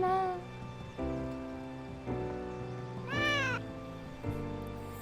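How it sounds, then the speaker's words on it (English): A cat meows repeatedly in the video game Atelier Yumia, several drawn-out tonal meows with one higher, rising cry near the middle, loud and close over a soft rain-like ambience. "That's a cat."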